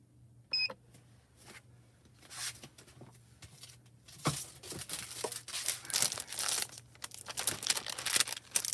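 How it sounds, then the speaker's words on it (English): Sheets of Crafty Critta paper are handled and crinkled while being readied for cutting, with rustling and crumpling sounds that grow louder and busier over the second half, close by and without talk. "I'm going to grab some more paper to cut down."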